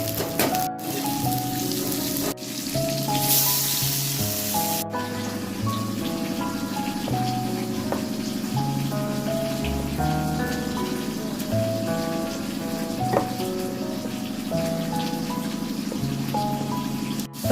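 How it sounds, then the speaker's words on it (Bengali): A fish tail frying in oil gives a steady, dense crackling sizzle that lasts throughout, with tonal music playing underneath. "আমার জন্য লেজাটা ভেজে নিচ্ছি।"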